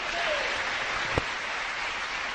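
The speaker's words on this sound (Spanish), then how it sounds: "Den un aplauso al Señor." Short burst of steady clapping from a church congregation, a continuous wash of applause with a brief tonal sweep and one sharp thump partway through.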